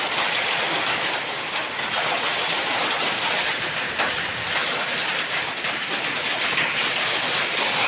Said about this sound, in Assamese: কি ডাঙৰ শিল বৰষুণে গেছে